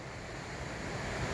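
The Middle Fork Kings River rushes nearby in a mountain canyon, a dense, steady roar of water that is loud and continuous, with no voices.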